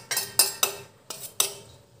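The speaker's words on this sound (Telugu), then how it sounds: "ఇప్పుడు ఆయిల్ అంతా కూడా ఆ చింతకాయ తొక్కుకి పట్టే విధంగా బాగా కలుపుకోవాలి." Raw tamarind paste being stirred into oil with a spoon for a chicken pickle, giving five sharp metallic scrapes and clinks of spoon against the pot at an uneven pace, close and fairly quiet, with no talking.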